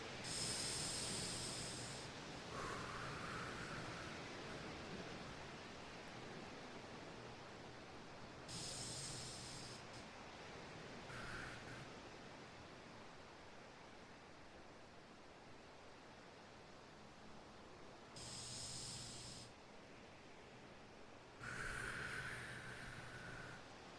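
Several slow, deep breaths come in separate bursts, each a soft rushing inhale or exhale, over a steady bed of wind-like hiss, with no talking.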